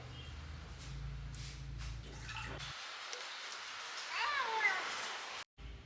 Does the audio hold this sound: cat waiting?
yes